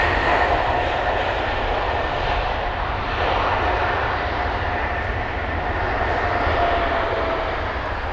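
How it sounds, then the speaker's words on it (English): A Swiss Airbus A220-300 airliner arriving at London Heathrow, its engines giving a steady, broad jet roar that holds loud and even throughout. "you've got the Swiss A220 inbound. Here it is, the A220-300."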